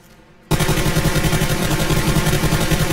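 Rapid automatic gunfire in a shooter video game bursts in after a quiet half-second and then hammers on loud and steady, with dense repeated shots and no talking.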